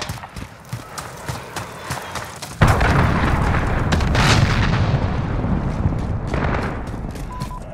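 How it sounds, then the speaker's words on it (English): Cruise missile launch and explosion in the Call of Duty: Modern Warfare video game: scattered clicks, then a sudden loud boom at about 2.6 seconds that swells into a long, dense rumble before fading. "Allied cruise missile launched."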